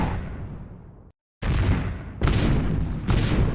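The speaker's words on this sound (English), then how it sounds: "All afternoon, our men kept the cannon fire hot." Cannon fire from shore guns battering ships near a sandbar: a sustained rumbling blast, a brief silence, then three heavy booms in succession, loud and close.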